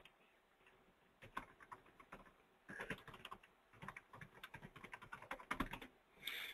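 Someone types a web address on a computer keyboard, producing quiet bursts of rapid clicking key taps separated by short pauses, close and alone with no talk.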